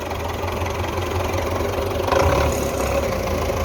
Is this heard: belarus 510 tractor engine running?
yes